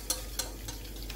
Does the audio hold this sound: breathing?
no